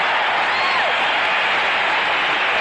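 Large football stadium crowd at a San Diego Chargers versus Pittsburgh Steelers game roaring and cheering after a defensive stop, a steady loud wash of noise with a faint whistle-like glide rising through it.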